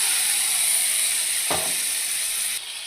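Marinated chicken dropped into cooked spice paste for a chicken biryani, stir-frying with a steady loud sizzling hiss, one dull clunk of the pan partway through, then the sizzle eases slightly near the end.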